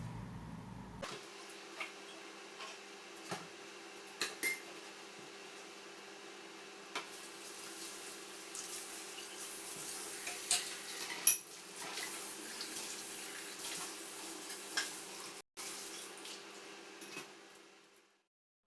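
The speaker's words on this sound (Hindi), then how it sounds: "फिर मैं कुछ बर्तन हैं जिनको वॉश कर लूँगी जल्दी से।" Dishes being washed at a kitchen sink under a running tap, with steady water flow and scattered clinks of pots and cutlery throughout, fairly close and without talk.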